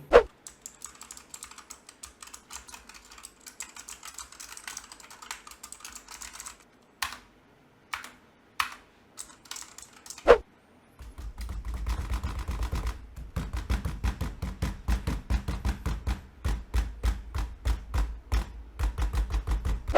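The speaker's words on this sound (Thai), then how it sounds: "เรากด คีย์บอร์ดคลิกเมาส์ทุบโต๊ะอะไรแบบนี้" Rapid keyboard typing with scattered sharp clicks, sparse at first and then a dense, steady clatter of keystrokes close to the microphone.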